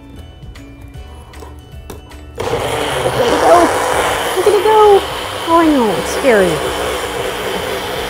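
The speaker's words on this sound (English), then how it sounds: "All right, time to blend it up. I just have the magic bullet." A Magic Bullet blender starts up partway through and whirs steadily at close range. A person talks over it, and a dog whimpers and whines during the blending.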